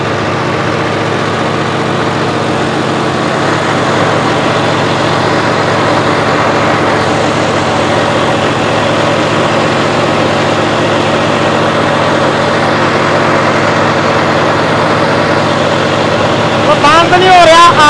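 A modified John Deere 5405 4x4 tractor with a turbo diesel engine and a modified fuel pump runs at a steady low rumble, close and constant, while someone talks over it throughout.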